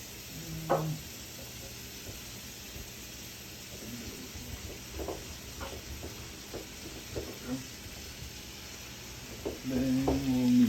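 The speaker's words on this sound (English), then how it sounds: "Oh yeah, listen to that sizzle." Butter sizzling in a greased frying pan, a faint steady hiss with small crackles throughout, quiet and close, with voices talking over it.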